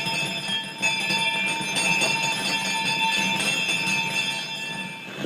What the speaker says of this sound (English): Every bell in the house was ringing.